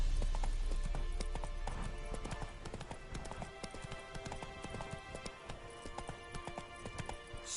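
Roach, a horse in The Witcher 3, gallops with rapid rhythmic hoofbeats over a low rumble, the pace easing as the gait slows.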